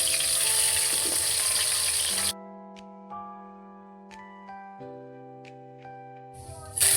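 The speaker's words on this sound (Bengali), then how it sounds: "এই যে গরম তেলে বেগুনগুলো দিয়ে বেগুন ভাজাগুলো তুলে নেব" Eggplant slices fry in hot oil with a loud, steady sizzle for about two seconds, then it cuts off abruptly and gentle melodic music takes over.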